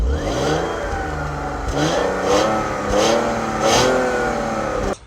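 A BMW E46 with a manual gearbox and a quiet stock exhaust revs in a few rising and falling pulls, the engine climbing and dropping in pitch for about five seconds before cutting off abruptly.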